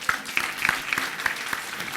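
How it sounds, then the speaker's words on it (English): Brief crowd applause at a local government reform consultation in San Fernando, a smattering of distinct hand claps in loose rhythm, moderately close and without voices. "Let us have a round of applause."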